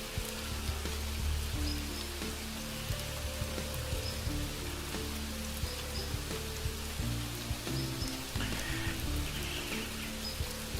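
Rain falling steadily on an outdoor journey on a cloudy morning, a continuous patter of drops with low rumbling background noise and no voices.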